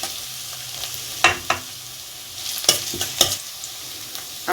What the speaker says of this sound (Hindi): अब इसमें कटी हुई हरी मिर्चें डाल रही हूँ।